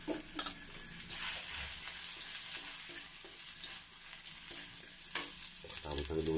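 Ginger sizzles and crackles as it fries in a pan for a Filipino crab and pechay dish, a steady bright hiss that swells louder after the first second and stays continuous to the end.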